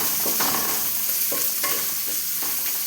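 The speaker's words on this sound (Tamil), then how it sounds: "இந்த வெங்காயம் எண்ணெயில் வதக்கும்போது" Onion sautéing in oil with a pinch of salt for a drumstick-leaf stir-fry gives a constant dense sizzle, with stirring strokes scraping through it now and then, close and steady with no voices.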